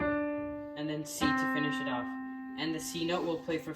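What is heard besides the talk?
No everyday noise stands out behind the speech.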